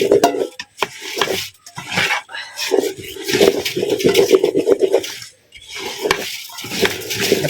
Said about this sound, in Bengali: চাউল দিব এবং নাড়াচাড়া করতে থাকবো যাতে লেগে না যায়